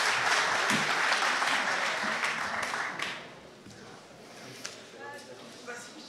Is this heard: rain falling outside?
no